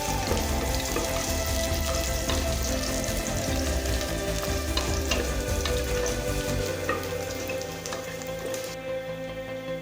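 Chopped garlic sizzles and crackles steadily in hot oil in a pan, a loud, continuous frying hiss that eases slightly toward the end.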